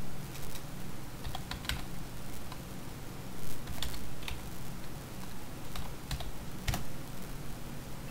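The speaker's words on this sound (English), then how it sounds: "You just go ahead and type your password and press enter." Fingers type a password on a computer keyboard in a Linux terminal session, a scattered series of light key clicks at an irregular pace over a quiet room hum.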